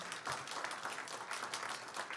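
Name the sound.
applause at a press conference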